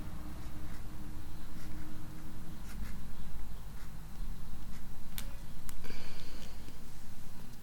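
A pen writes by hand in a paper planner, producing soft, close scratching strokes and light taps over a steady low background hum.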